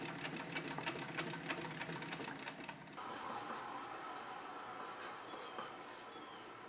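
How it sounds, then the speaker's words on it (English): A sewing machine hems a leather tool bag with a rope hem, chattering in a fast, even run of stitches for about three seconds before giving way to a softer, steady workshop hum. "Now I'm just doing some hemming before I assemble the rest of these."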